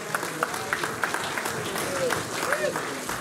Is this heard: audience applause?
yes